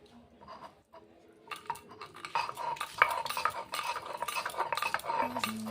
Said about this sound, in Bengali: এগুলোকে শিলনোড়ার মধ্যে বেটে নেব।